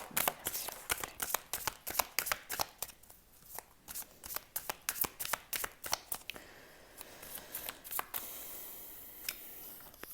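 Tarot cards being shuffled by hand, a rapid run of crisp riffling snaps and flicks at close range that eases into softer sliding and a few lighter taps toward the end.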